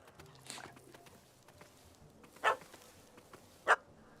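A dog in The Witcher 3 gives two short, sharp barks spaced about a second apart over quiet game ambience, with faint softer yips and a muffled sound earlier.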